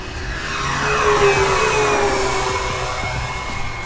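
An FMS Tigercat 1700mm twin-engine RC warbird makes a steady loud electric whine as it flies past near full speed, the pitch sliding gradually downward as it passes.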